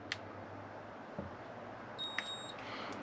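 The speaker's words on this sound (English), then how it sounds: "I'm going to press a button on the front for 2 seconds and I will hear an audible beep" A short electronic beep from an Outin Nano portable espresso machine rings out once, clear and close, over a faint steady hum, with a couple of soft clicks nearby.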